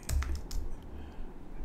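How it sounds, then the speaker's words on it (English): Fingers tap on a computer keyboard up close, a quick cluster of clicky keystrokes at first that thins out into a soft background hum. "Really bad at typing today"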